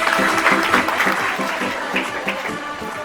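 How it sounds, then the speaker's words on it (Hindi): A crowd applauds a dance performance to a traditional Rajasthani song at an Independence Day school function, steady rhythmic clapping for about three seconds. "इसके लिए जोरदार तालियां।"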